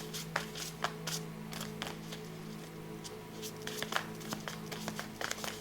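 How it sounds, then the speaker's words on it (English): Tarot cards being shuffled by hand, a series of soft riffling and tapping bursts, fairly quiet over a low background hum. "I might have shuffled more than I meant to"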